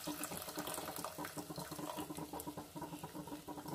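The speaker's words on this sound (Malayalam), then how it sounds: "ഇനി നമുക്ക് ഗ്യാസ് സിമ്മിലിട്ടിട്ട് നമുക്ക് ഈ പാല് ഒഴിച്ചു കൊടുക്കാം" Milk is poured into olan, a Kerala coconut-milk curry, simmering over a low gas flame, giving a continuous close liquid pouring and splashing sound.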